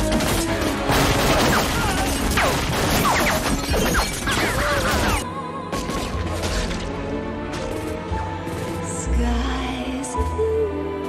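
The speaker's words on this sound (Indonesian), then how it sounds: "Baku tembak pun terjadi." Gunfire erupts during a shootout between FBI agents and a fugitive in a film scene: a dense flurry of sharp, loud bangs and crashes for about five seconds, then a quieter tail of scattered impacts and mechanical clatter.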